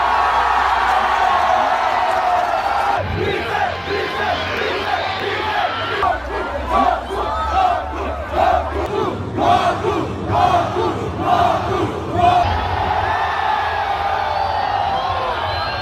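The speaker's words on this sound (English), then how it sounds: "They are cheering at a cartoon fight, as if it was the World Cup finals or a pay-per-view UFC match" A large crowd at a public viewing of the final Dragon Ball Super episodes in South America roars and cheers in loud, surging waves, with bursts of yelling swelling and falling across the stretch.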